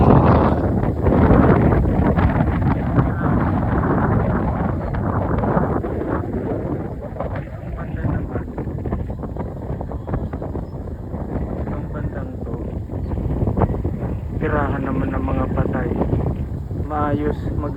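Strong wind buffets the microphone at a hilltop lighthouse overlooking Batanes, a loud continuous low rumble with gusts throughout, while a person talks over it.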